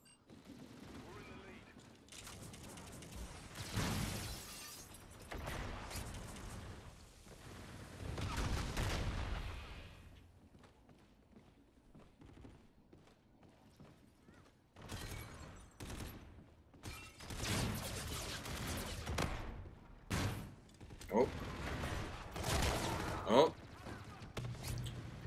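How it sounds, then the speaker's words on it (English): Venom X launcher firing in the video game Call of Duty: Infinite Warfare, with repeated bursts of loud gunfire and explosive blasts filling the scene over several stretches, separated by quieter gaps, with voices present. "Let's try out this new launcher, the Venom X."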